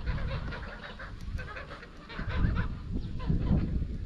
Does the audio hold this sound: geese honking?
yes